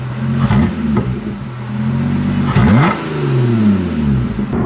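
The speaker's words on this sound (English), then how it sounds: "I'll throw a little clip in of some standing revs." A Lotus Evora S with an aftermarket exhaust revs while standing still, several loud throttle blips rising and falling across the clip, close up with no talking.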